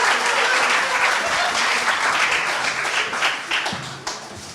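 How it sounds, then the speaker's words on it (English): An audience at a coding bootcamp demo day in Amsterdam applauds warmly, dense clapping that thins out over a few seconds before a voice begins. "So please give a round of applause"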